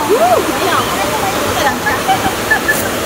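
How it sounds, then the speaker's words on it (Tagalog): A waterfall and stream at the Double Dragon waterfalls in Hong Kong give a loud, steady rush of water, with voices talking over it. "So, pagbaba natin, andyan na yung tubig."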